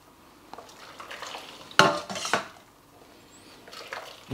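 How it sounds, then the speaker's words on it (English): Vegetables pressed through a metal strainer to extract shoyu ramen broth, with a short burst of scraping and clinking near the middle against a quiet kitchen background. "you need to press the vegetables through against the strainer"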